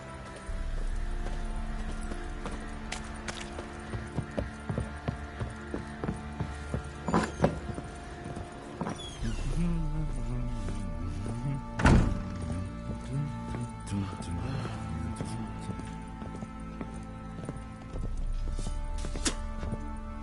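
Hooves of Roach, Geralt's horse in The Witcher 3, clip-clopping in a steady walking rhythm under game music and ambience, with a few louder thumps along the way.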